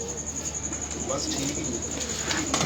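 Pigeons coo steadily at a loft, soft throaty calls repeating close by over a constant background hum, with faint chirps and a brief flutter near the end.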